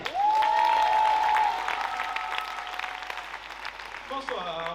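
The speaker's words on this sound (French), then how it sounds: "je vous demanderai de faire un tonnerre d'applaudissements pour Jonas Culturé" Audience at a GymPully gym gala talent show applauding a judge, a strong burst of clapping from the crowd that gradually thins out, with a sustained musical tone ringing through it and a voice beginning to talk near the end.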